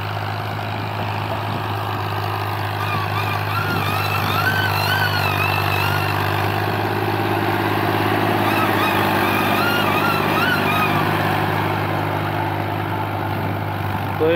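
A 2023 FiAT 480 Power Plus tractor on big tyres, used for wheat harvesting and cotton sowing, runs steadily with a loud, continuous low engine drone and a smooth, even idle rumble close by, with no one talking.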